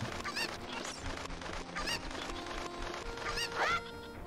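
Cucco chickens in the video game Zelda: Ocarina of Time cluck and squawk in a busy, repeated chorus of short calls over steady game background sound.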